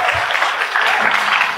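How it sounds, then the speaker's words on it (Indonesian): A school audience of students from MAN 13 claps loudly and steadily in one short burst, with crowd noise mixed in. "Tepuk tangan dong MAN"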